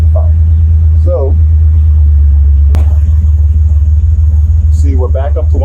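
A Buick Grand National engine idles in gear, a loud, deep, steady rumble throughout with a brief click partway, while someone talks over it.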